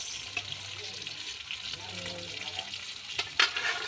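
Garlic and tomatoes fry in a pan with a steady, soft sizzle, joined by occasional stirring scrapes and a brief louder clatter near the end.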